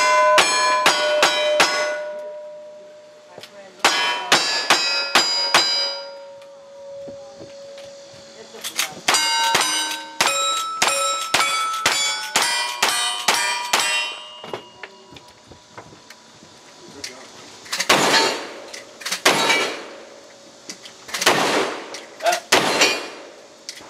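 Gunshots at steel targets during a shooting competition stage, fired in quick bursts with sharp metallic clangs and ringing pings from hits, followed later by a few louder, broader reports.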